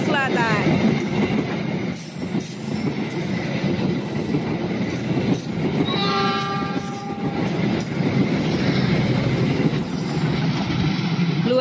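The Argo Wilis passenger train rumbles steadily along the southern line tracks in Indonesia, with continuous rolling noise, a brief horn-like tone midway, and faint voices underneath.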